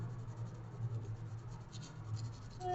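Colored pencil shades across paper with a soft, continuous scratchy rasp, quiet and close, with slight rhythmic strokes and no voices.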